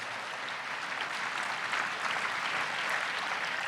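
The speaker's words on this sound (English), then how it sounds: "Let's give him one more round of applause" A crowd applauds the show's organizer in a sustained, dense roar of clapping, steady and fairly distant for the whole span, with no talk over it.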